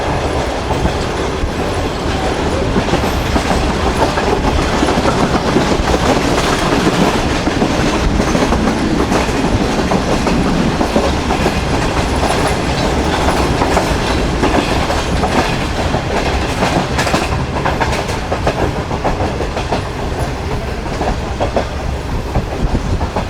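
The Shalimar Express rolls along the rails between Bahawalpur and Karachi, a continuous loud rumble with rhythmic clickety-clack of wheels over joints and faint metallic squeals, heard from on board with no talking.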